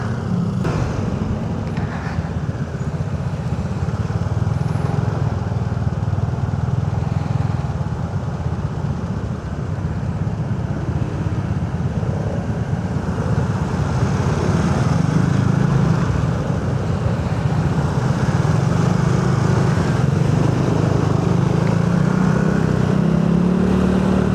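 Yamaha Nmax Neo S scooter creeping through a traffic jam at dusk, its steady engine drone and surrounding traffic rumble continuous and close throughout.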